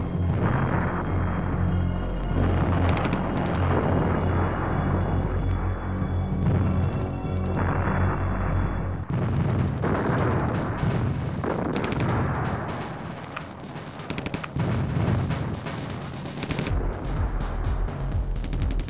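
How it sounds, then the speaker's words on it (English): Artillery fire in the World War II strategy game Counter Action, loud dense barrages of booming blasts and crackling gunfire rolling continuously over nearly twenty seconds, with no talking. "Use artillery to rescue the situation."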